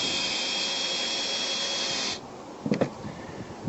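A power drill drives a screw into an RV roof during leak repair, a steady close whirring that cuts off partway through, followed by a few soft knocks and handling sounds.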